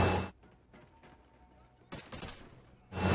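Gunfire in Call of Duty: Ghosts, with sharp loud bursts at the start, in the middle and at the end, separated by quieter game ambience and faint clicks.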